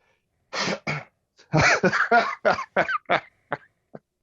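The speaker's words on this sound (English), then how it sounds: "You're coughing." A run of sharp coughs, several bursts in quick succession, close and loud, trailing off into a few smaller ones.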